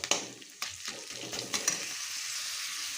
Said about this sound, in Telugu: అల్లం పేస్ట్, ఉల్లిపాయలు అయితే బాగానైతే ఫ్రై అయితే అవ్వనివ్వండి.